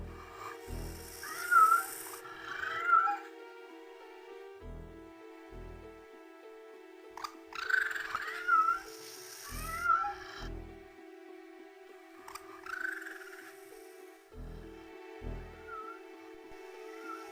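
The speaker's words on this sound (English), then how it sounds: "Lord, I hope they're not working on cloning these cats." A cat meows repeatedly in the adventure game Tex Murphy: Overseer. Several clear, drawn-out meows come at intervals over a looping low musical hum with rhythmic thumps.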